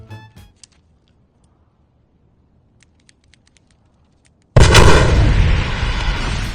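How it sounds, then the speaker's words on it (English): Near silence with faint scattered pops gives way to a sudden, loud, sustained roar of detonator-triggered movie effects explosions that continues to the end. "The explosions were meant to be continuous but suddenly stopped"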